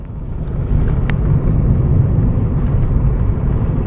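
A car drives along Langata Road in Nairobi, heard from inside as a steady, loud low road rumble and engine drone with no talking.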